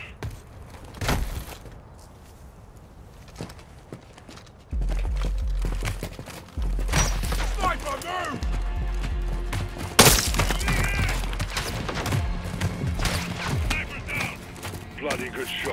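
Gunfire in Call of Duty Modern Warfare 2 comes as a few sharp, loud cracks and impacts, with the strongest burst near the middle, among rumbling game effects and spoken dialogue.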